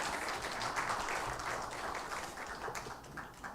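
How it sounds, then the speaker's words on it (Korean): A crowd claps steadily in a large room during a church Sunday service, the applause softening slightly toward the end. "우리 응원의 박수 하겠습니다"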